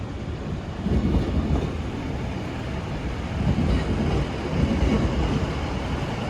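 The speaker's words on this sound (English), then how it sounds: "departing out now is the 1013 Scotrail service, starting here at Glasgow Central, going to Kilmarnock" A ScotRail class 156 diesel train pulls out of Glasgow Central, a steady loud rumble of engine and wheels swelling and easing over several seconds with no voices.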